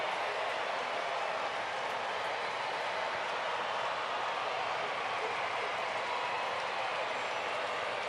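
Dense, steady roar of a sellout baseball stadium crowd at a Braves–Giants game, a continuous wash of cheering and noise that never breaks across the clip.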